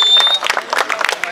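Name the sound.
crowd applause at freestyle rap battle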